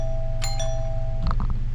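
A notification bell ding sound effect, a bright chime ringing once with a lingering tone, then a short cluster of softer clicks and taps, loud and alone.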